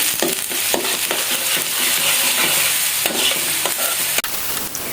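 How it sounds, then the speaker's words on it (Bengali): Grated onion and garlic fry in oil, a continuous close sizzle with intermittent scraping and stirring strokes in the pan, loud and free of talk. "গ্রেট করা পেঁয়াজ এবং রসুনটা এটা একটু তেলের মধ্যে জাস্ট হালকা ব্রাউন কালার করে ভেজে নিব"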